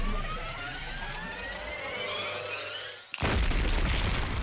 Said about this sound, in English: Vicious explosion echoed through the gym as the bomb inside Ado was detonated.